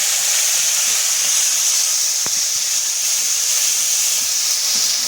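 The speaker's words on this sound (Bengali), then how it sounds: "আদা জিরে বাটাটা দিয়ে ভালো করে কষিয়ে নেব।" Ginger and cumin paste fries in a pan with bay leaves, giving a continuous loud sizzling hiss and one brief sharp tap partway through.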